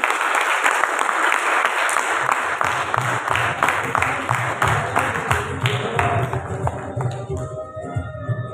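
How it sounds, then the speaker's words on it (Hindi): An audience at an assembly ceremony applauds with dense, sustained clapping that stays strong throughout, with a few sharper claps standing out near the end. "भरपूर अंदाज में क्लैप कीजिए"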